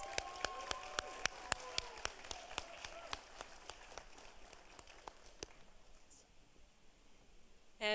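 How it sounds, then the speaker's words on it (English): Applause from an audience at a recognition ceremony for healthcare pathway cohorts, steady clapping under a voice that fades out after about five seconds, leaving quiet room tone. "All right, last round of applause for the phlebotomy cohorts."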